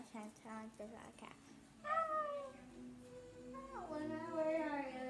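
A child imitates a cat, giving a few short meows followed by two longer, drawn-out meowing calls, close and clear against a quiet background.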